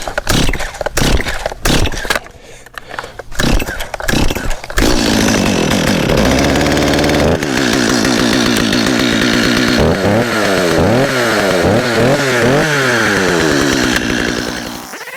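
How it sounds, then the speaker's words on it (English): Stihl 250 chainsaw cutting wood, starting with a few short revs and bursts, then a long sustained loud cut with the engine pitch bogging and rising as the chain bites, close and alone. "I decided to buy this saw. It's a Stihl, a 250."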